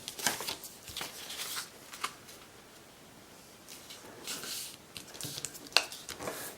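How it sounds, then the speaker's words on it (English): A sheet of paper being creased and folded into thirds for a square origami envelope, with soft rustles, sliding and crisp creasing crackles in short bursts, close and quiet. "So I'm just going to fold this into thirds, like so."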